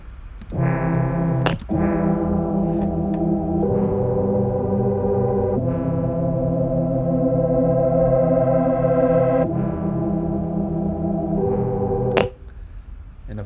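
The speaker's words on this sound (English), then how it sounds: "the mid synth sounds like this." Mid-range synth chords from an electronic track, likely a Serum patch, held in long sustained blocks that change every few seconds, bright and upfront, with a few sharp percussive hits and no voices.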